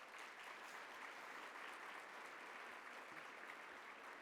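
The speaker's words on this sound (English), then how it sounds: "So give yourselves a round of applause." Steady applause from the audience at a local heroes awards event, a dense unbroken wash of clapping hands filling the room at moderate loudness throughout, with no speech over it.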